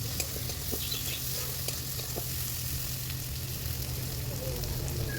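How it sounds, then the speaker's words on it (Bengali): Potatoes and onions fry in a pan with a dense, even sizzle and crackle, close and constant throughout, with no talking. "পেঁয়াজ আর আলুটাকে বেশ ভালো করে আর একটু ভেজে নেব।"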